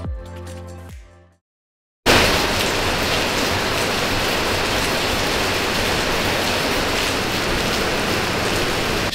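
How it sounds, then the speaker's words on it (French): After a brief silence, rain in southern Thailand starts pouring down steadily, a loud dense hiss of drops on surfaces that fills the rest of the stretch without any voices. "J'ai comme l'impression qu'il pleut encore."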